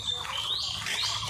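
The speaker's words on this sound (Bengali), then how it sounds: "কত সুন্দর পাখির আওয়াজ।" Birds chirping outdoors just after rain in a rural setting: quick, rising high-pitched chirps and trills, moderately close, over a steady soft background hum.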